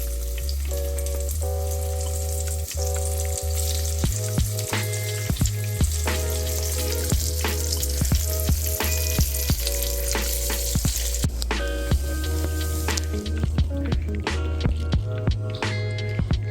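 Eggplant slices for Bengali begun bhaja fry crisp in hot oil, a dense, steady crackling sizzle with frequent pops and spits, heard alongside a background melody.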